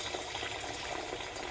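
Chicken wings dropped into hot frying oil give off a dense, bubbling sizzle that stays loud and steady throughout the short moment, with no talking.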